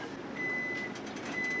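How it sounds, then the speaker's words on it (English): Kitchen timer beeping while sautéed cabbage cooks on the stove, a thin steady electronic tone that sounds in two long stretches over a dense background of frying sizzle. "there's our timer"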